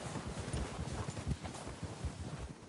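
A horse clip-clops at a trot or gallop across the ground in Red Dead Redemption 2, a rapid rhythmic patter of hooves, moderately faint and continuous, with no voices.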